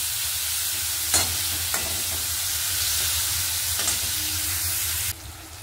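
Chopped tomato frying in a pan, a steady close sizzle with a few sharp spatula scrapes and stirs breaking through, the hiss dropping off near the end.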